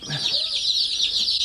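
Chicks in a brooder give a continuous high, rapid peeping chorus, close and fairly loud, with a low cluck-like sound at the start.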